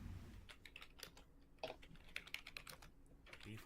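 Fast typing on a computer keyboard heard up close, with a quick, irregular patter of light key clicks and occasional heavier strokes, alone with no voices.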